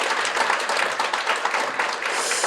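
An audience at a 10th-anniversary Rare Disease Day commemoration ceremony applauds: dense, steady clapping from many hands, even and sustained throughout, with no voices over it.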